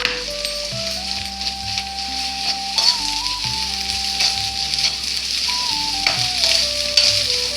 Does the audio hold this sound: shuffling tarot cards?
no